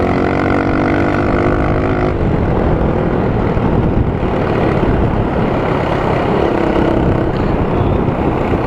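Yoshimura USA slip-on exhaust on a motorcycle, a loud continuous engine drone that rises and shifts in pitch as the bike rides, close and steady with no talking.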